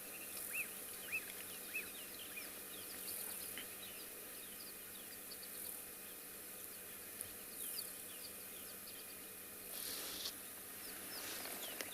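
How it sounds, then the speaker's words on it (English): Several birds call faintly in South African bush during a morning safari, a black-backed puffback among them, with scattered sharp chirps and a steady insect hum in the background and no speech. "You can hear the blackback puffback."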